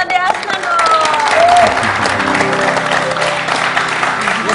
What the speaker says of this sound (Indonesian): Saya tepuk tangan dong